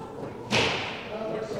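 A fast foosball shot in an open doubles tournament final hits the ball with one sharp, loud thud, followed by a brief fading rumble of the table and room, with faint voices underneath.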